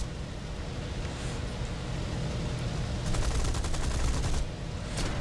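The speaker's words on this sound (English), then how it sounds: "we're going to swoop in and gun down some landing craft before they start deploying troops" Rapid bursts of aircraft machine-gun fire in War Thunder, strafing landing craft, rattle over a steady roar of engine and wind noise, with one longer burst near the end.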